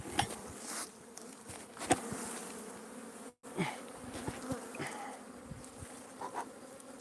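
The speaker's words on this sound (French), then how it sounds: "Il faut que je fasse tomber les abeilles là-dedans." Agitated honeybees buzz in a dense, continuous swarm drone as they are shaken into a new hive, the hum rising and falling with a few sharper close passes and one brief dropout, with no talking.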